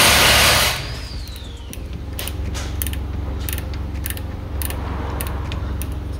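A 12 mm spanner turns a brake bolt anti-clockwise on a 2015 Citroën C1, giving a loud metallic creak and then a series of quick clicking ratchet ticks close to the microphone.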